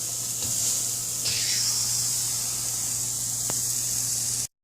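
Onions sizzle in a hot pan with a steady, bright frying hiss that stays even throughout, with a couple of faint clicks and no voices, then cut off abruptly at the end.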